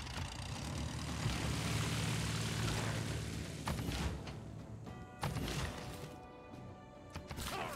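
Aircraft in the video game Civilization VI roar past under fire, a loud broad engine drone fading into several sharp crash-like impacts and bursts.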